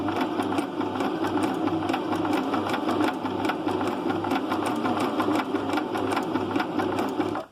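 A sewing machine runs steadily in zigzag stitch through fabric, its needle hammering out a fast even rhythm close up and loud, with no talk over it until it stops at the end.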